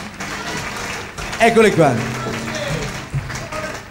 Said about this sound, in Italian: accogliamoli con un bel applauso